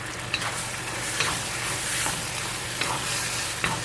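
Basil eggplant stir fry with crushed red pepper being stirred in a hot pan, a constant sizzle broken by several distinct scraping strokes of the utensil at a slow, regular pace.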